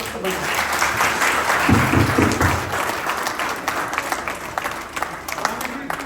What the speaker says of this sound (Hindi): तो ताली बजा जोर से